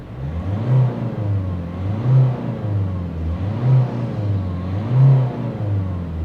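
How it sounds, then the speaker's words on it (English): A 2020 Kia Sonet HTX+ diesel with manual gearbox, revved hard at standstill past 5000 RPM, heard from inside the cabin: a loud engine drone that swells in four repeated rev surges over a steady rumble, with no voices. "At a standstill, the engine does rev over 5000 RPM"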